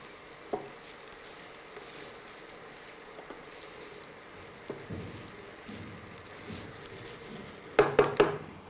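Chicken stir fry sizzles softly in a pan as coriander is mixed in, a low steady hiss broken by a few light utensil taps and a quick cluster of sharp metallic clinks near the end.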